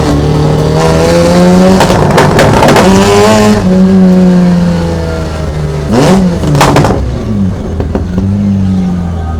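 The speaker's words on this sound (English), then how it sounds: "Got that rotational idle going." A Volvo wagon fitted with a quad-rotor rotary engine, with anti-lag, runs loud and close throughout. Its steady idle drones underneath, with sharp revving bursts near the start and again around the middle.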